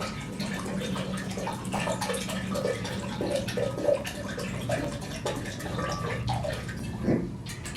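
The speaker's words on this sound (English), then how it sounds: "we begin with Mountain Valley spring water, and you simply pour it into your blender" Mountain Valley spring water pours steadily into a blender with a close, continuous trickling and splashing that shifts in pitch as the jar fills, ending with a small splash.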